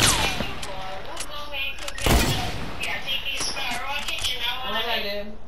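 Fortnite gunfire cracks out in a few sharp shots, one loud blast standing out, amid game sound effects and a player talking over the action.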